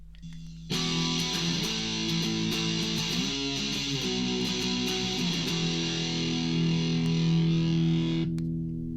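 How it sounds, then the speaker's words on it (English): An electric guitar plays a power-chord riff through heavy distortion, a sustained, loud crunchy tone that shifts between chords for about eight seconds before cutting off, heard alone. "I'll go over it again quickly with a bit of distortion."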